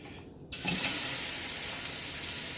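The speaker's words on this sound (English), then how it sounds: "You can hear that water." Tap water from a kitchen faucet pours in a steady, loud broadband hiss after starting abruptly about half a second in, continuing alone without talk.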